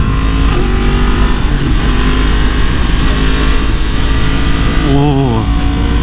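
Yamaha MT-10 motorcycle with a freshly flashed ECU riding at speed, a loud steady engine drone under heavy wind rush, with a brief rising and falling rev near the end and a rider talking over it.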